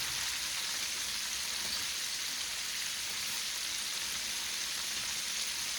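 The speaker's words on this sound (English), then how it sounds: "The chicken is frying" Chicken wings frying in hot oil give off a steady, dense sizzle, even and continuous at moderate loudness, with no voices.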